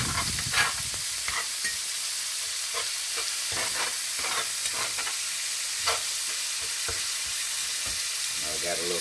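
Meat sizzles and fries in a cast iron skillet, a loud continuous crackling hiss with scattered pops and spatters, heard alone without talk.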